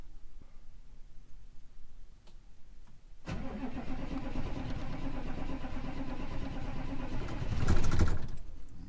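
A 6.2 diesel engine with air in its fuel cranks and sputters to life after a quiet stretch, running rough and loud, then surging briefly before settling; no talking.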